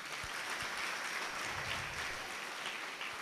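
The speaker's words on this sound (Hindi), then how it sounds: "तो एक बार अपने गुरुजनों के लिए ताली बजा दो" Students in a school classroom clap for their teachers, a steady patter of hands that stays fairly quiet and distant, with no talk over it.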